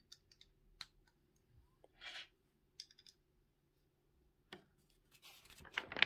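Sparse plastic clicks and snaps of Lego bricks being fitted together come in small bursts with quiet gaps between them, close by, then a rustle of handling near the end.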